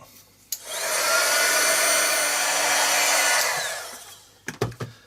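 Hair dryer blowing on a painted art tag to dry the paint, a loud steady whoosh switched on, running about three seconds and winding down, followed by a few light clicks and taps.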